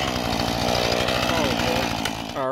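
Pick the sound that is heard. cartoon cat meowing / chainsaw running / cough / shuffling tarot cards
chainsaw running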